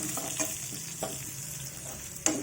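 Dried red chillies frying in a pan give a soft, steady sizzle, with a few faint stirring scrapes and a sharp clink near the end.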